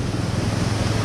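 Water pours over a small dam-like weir on a road trip near Munnar. A steady, full roar of rushing water fills the short moment, with nothing else heard.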